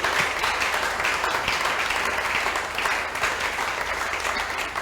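A church congregation at a sermon bursts into sustained clapping, a dense, even wash of many hands applauding together at steady loudness throughout, with no talking over it.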